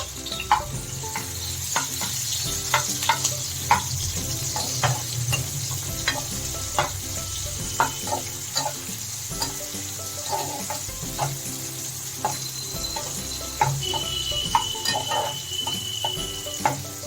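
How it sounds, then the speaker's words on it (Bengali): Chopped onions frying in a pan with panch phoron for an echor chingri dish of young jackfruit and prawns: a continuous close sizzle, dotted with frequent small crackles and the occasional tap of a stirring spoon. "পেঁয়াজটা একটু বাদামি বাদামি করে ভেজে নেব।"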